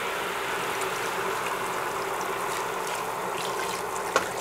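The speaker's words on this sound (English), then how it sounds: "now I'm going to add in the beef broth." Beef broth pours into an Instant Pot over oxtails in a steady liquid stream, a continuous close trickle lasting several seconds with a small clink near the end.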